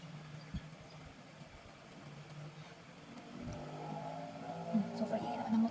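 Noisy motorcycle engine outside a room, a low faint rumble that grows louder and rougher toward the end as it passes.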